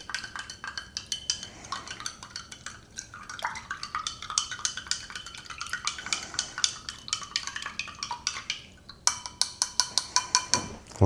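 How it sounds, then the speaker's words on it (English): A spoon stirs powdered muesli inside a 2010 British Army 24-hour ration pouch, making a steady run of close, light scraping and rustling strokes that grow into sharper, regular clinks near the end. "Give it a stir. Get that powder mixed up."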